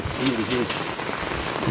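Unseasonal rain pours onto a wedding pandal in Kokan, making a dense, steady hiss. Nearby voices talk over it throughout.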